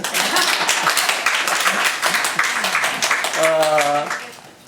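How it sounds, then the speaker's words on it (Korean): A church congregation at a Sunday service claps for about three seconds in a busy, even patter of many hands, then a voice takes over as the clapping dies away. "박수를 치셔야 되는데"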